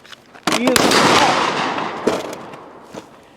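Rifle rounds cooking off in an overheated barrel at an outdoor LMT shoot: a sharp loud report, then a long fading roar with a couple of further cracks, and a person's voice heard briefly.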